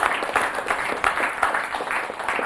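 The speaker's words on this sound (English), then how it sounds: "let's give our director a big round of applause" An audience applauds a director at a gathering about refugees, with dense, steady clapping and a few louder bursts, filling the short stretch close and evenly.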